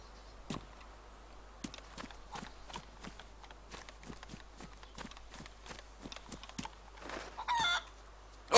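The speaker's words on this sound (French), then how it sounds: "Il y a des poules, j'ai entendu des poules là." Chickens cluck in the zombie survival video game DayZ, sounding intermittently over a steady run of footsteps, with a louder burst of clucking near the end.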